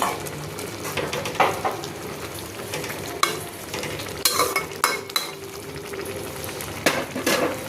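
Snake gourd and fried prawn curry with green chillies cooking in a pan, with a steady sizzle and bubbling under occasional metal utensil clinks and scrapes.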